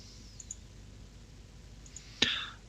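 A computer mouse click while selecting points in Photoshop, heard as one sharp, fairly close click near the end, with faint ticks earlier over quiet room tone.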